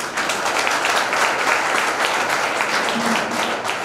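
A seminar audience in a college hall claps steadily to welcome a speaker, a dense, even wash of applause with a faint voice underneath.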